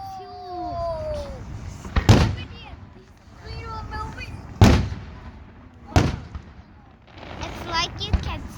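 Large fireworks bursting at the 2022 Tehachapi show, three loud booming blasts spaced a couple of seconds apart, with a child and other people talking and exclaiming between the bangs.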